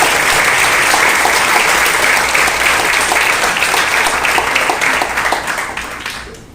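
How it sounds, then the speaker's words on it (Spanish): A church congregation gives a loud burst of sustained applause during a Spanish-language service, dense clapping from a large crowd that holds steady, then tapers off at the end. "¿Cuántos podemos experimentar hoy esta mañana y podemos darle un fuerte aplauso al Señor?"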